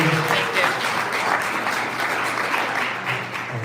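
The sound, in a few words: audience applause for presenter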